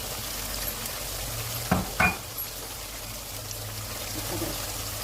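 Tandoori chicken karahi with coriander and green chili fries in a pan with a steady background sizzle, broken by two sharp clatters of stirring close together, then the sizzle settles back.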